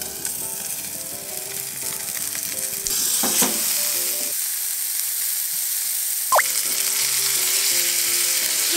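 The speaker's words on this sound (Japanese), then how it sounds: "まずパテを焼いていきます。" Burger patty sizzling steadily in a frying pan for a Loco Moco-style rice burger, a continuous close frying hiss with a brief lid or pan clatter partway through.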